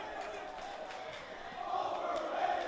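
Distant roar of a high school basketball crowd of about a thousand people, chanting and screaming in a gym, a continuous swelling wash of voices that grows louder toward the end.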